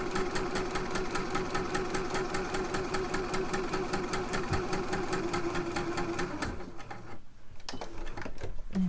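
A sewing machine stitches fabric in a steady, fast mechanical rhythm that runs loud and continuous for about six and a half seconds, then stops, leaving quiet handling sounds.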